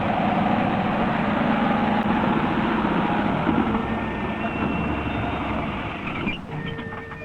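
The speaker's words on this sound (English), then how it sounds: "Every day, the familiar blue and white milk collection vehicles pick up the milk from the farms." A blue and white milk collection lorry idles close by with a steady low engine rumble and droning hum, holding constant throughout, no voices.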